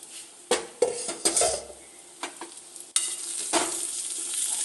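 Onion stirred with ginger-garlic paste in a pan for chicken curry: a close spoon scrapes and clinks against the metal with irregular strokes, over a steady soft sizzle of frying.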